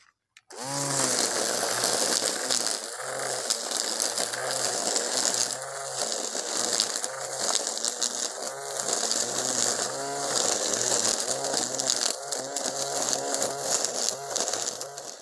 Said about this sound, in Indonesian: Kita akan coba potong nih rumput-rumput yang ada di sini.